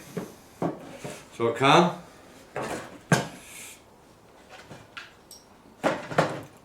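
Wooden frames and boxes of a queen mating nuc beehive knock and clatter as the hive is closed up, with a run of sharp clunks and scrapes close by, a brief voice speaking in between.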